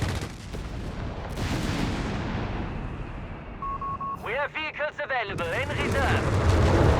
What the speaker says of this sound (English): Bombarding that 30 cal there with high explosive 75mm shells